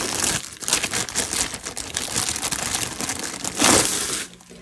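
A diamond painting canvas is pulled from its plastic bag, giving continuous loud crinkling and rustling of plastic film close up, with a sharper burst of crumpling near the end.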